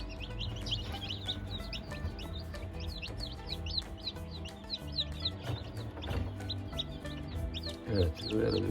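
Many small chicks peep repeatedly in a busy, overlapping chorus, high and close, over a low background hum from an incubator.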